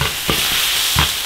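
Soybean paste with scallions stir-fried in an iron wok, giving a loud, steady sizzle with a few scraping strokes of a spatula, heard up close.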